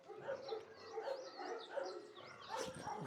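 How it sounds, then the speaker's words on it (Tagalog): Several excited pet dogs bark and yip in quick, overlapping bursts at close range, with whimpers and higher yelps mixed in and no pause across the whole stretch. "Masyado excited yung mga aso ko."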